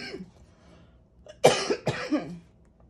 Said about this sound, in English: my yucky cough that I've had for quite some time now